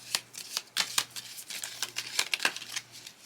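Tea leaf oracle cards are shuffled close up in quick, irregular riffling bursts of papery flicks, with no voices.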